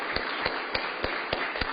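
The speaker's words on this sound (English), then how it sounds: "Let's all give them a round of applause and a happy birthday." Applause from an audience at a board of aldermen meeting, marking two members' birthdays: a brief patter of clapping with a few distinct, evenly spaced claps standing out, heard from a distance in a room.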